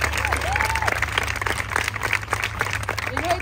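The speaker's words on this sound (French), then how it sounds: "On peut l'applaudir très très fort" A steady wash of audience applause fills the whole stretch, with scattered voices calling out over the clapping.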